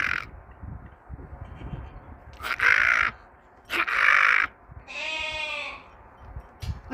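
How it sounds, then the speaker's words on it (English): A crow or jackdaw caws outdoors on a cold autumn day, giving four loud, close harsh calls in a rough rhythm, the last one more drawn out and nasal, with quiet ambient noise between. "I'm communing with a crow, or a jackdaw."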